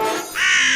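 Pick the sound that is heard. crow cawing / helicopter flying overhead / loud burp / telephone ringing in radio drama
crow cawing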